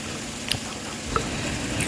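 Couscous stirred in a pot to break up lumps after microwaving, giving a soft continuous scraping and grainy shuffle with a couple of light knocks, close and steady, no talk.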